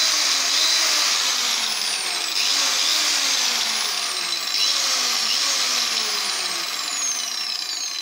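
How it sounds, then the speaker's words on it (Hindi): An SMT 7-inch 180mm angle grinder runs steadily with a loud, high motor whine whose pitch dips and recovers several times, heard up close without speech. "तो ये हमने एस एम टी का ग्राइंडर परचेज़ किया है तो ये मैं आपको चला के दिखाता हूँ"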